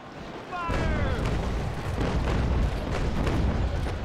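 Ship cannon broadside firing and hitting in the naval combat game Naval Action, a sustained rumbling roar of overlapping booms after a brief high whistling sweep, loud and continuous.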